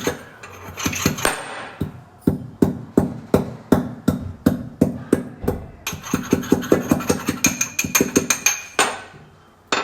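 Ginger is crushed with a series of sharp, hard pounding strikes, close and loud, arriving in quick irregular bursts that speed into rapid runs.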